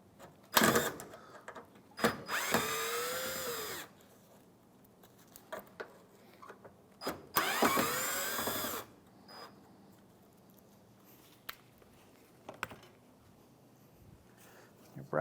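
A power driver backing Phillips head screws out of a 2011-2016 Hyundai Elantra bumper bracket, two short whirring bursts separated by quiet handling clicks, close up.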